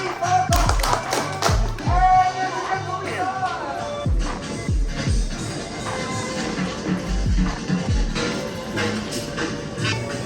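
A group at an 18th birthday party in Singapore claps in a steady rhythm, sharp hand claps landing in regular beats over music.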